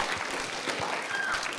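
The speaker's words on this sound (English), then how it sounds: "Huge round of applause" A crowd at a Muslim convention in Minnesota claps steadily in a dense, continuous patter of many hands, fairly loud and sustained throughout.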